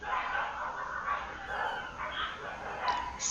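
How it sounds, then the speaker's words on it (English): Several dogs barking, yelping and whimpering as they fight outdoors, sounding muffled and somewhat distant through a wall, with a continuous jumble of snarls and yips rising and falling. "Some dogs are fighting outside."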